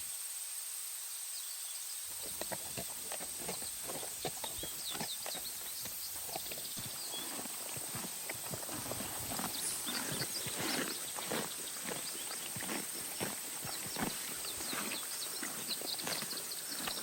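Horses' hooves clip-clopping at a riding stable, a dense run of sharp, rapid hoof strikes that begins after a brief quiet start and continues steadily, close and alone.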